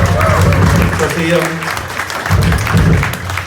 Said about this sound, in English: I think a little bit of applause for Nick.